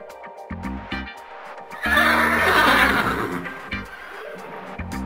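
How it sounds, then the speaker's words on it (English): A horse neighs loudly and close by, one long whinny rising and trailing off over about three seconds, preceded by a few short snorts or hoof knocks. "My horse got out, I have to go get him."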